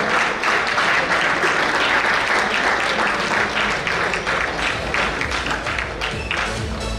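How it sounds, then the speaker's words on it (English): A banquet audience at an awards night claps loudly and steadily for several seconds, a thick wash of many hands with a few murmuring voices beneath. "Please give her a fitting applause, folks"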